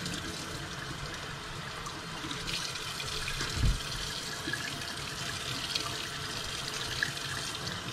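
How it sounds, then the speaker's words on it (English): Running tap water pours steadily over pork belly, rinsing curing salt and seasoning off the meat, a constant broad splashing wash close by with a brief louder splatter midway. "Rinse that off, and it rinses that seasoning right off."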